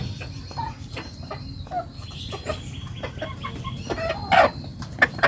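Penned backyard chickens cluck and call repeatedly in short, close bursts over a steady outdoor background, with no talk.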